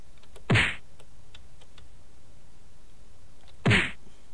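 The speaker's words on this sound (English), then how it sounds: "I'm about to sneeze." Two sharp, loud sneezes a few seconds apart, each a sudden explosive burst, with light tapping clicks scattered in between.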